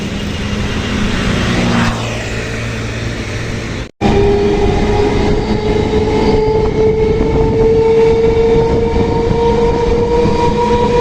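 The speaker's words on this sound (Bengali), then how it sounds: "এখন আমি ট্রেনের মধ্যে রয়েছি, এটা হচ্ছে ব্যারাকপুর লোকাল" Barrackpore–Sealdah local train running, heard from inside a carriage: a steady loud rumble with a rising whine, a brief cut near the middle, then a sustained tonal drone from the moving train.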